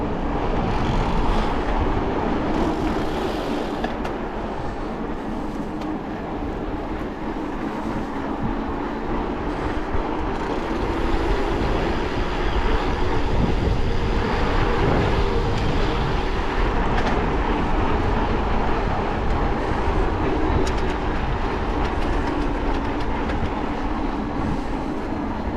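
An electric commuter train running in Crimea rumbles steadily from inside the carriage, a loud continuous drone of wheels and motors with faint rail clatter throughout.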